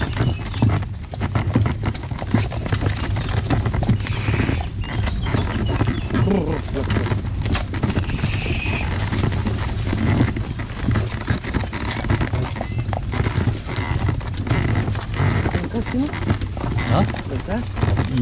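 A mare's hooves clip-clop in a steady rhythm on hard ground, close by, while someone talks over them throughout.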